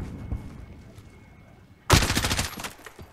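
Gunfire in a competitive shooter video game match: quiet game ambience, then a sudden loud burst of rapid shots near the end, with faint commentary in the background.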